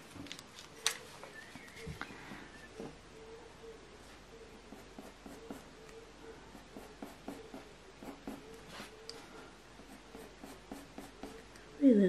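A warm grey coloured pencil scratches across paper while a realistic bunny rabbit is drawn, giving soft rhythmic strokes up close, with quiet speech nearby and a louder bump at the very end.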